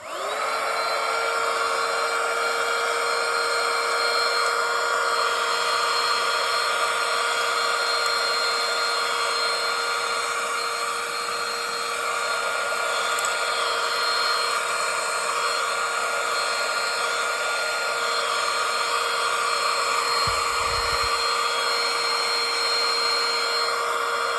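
A portable, rechargeable 3-in-1 handheld vacuum cleaner runs continuously for the whole stretch, its motor giving a loud, steady, high-pitched whine with airy rushing noise, close to the microphone and without any speech.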